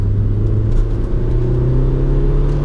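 A 2018 Kia Picanto GT-Line S engine hums steadily as the driver changes down to second gear, a close, even drone with a faint rise in pitch and no talking over it.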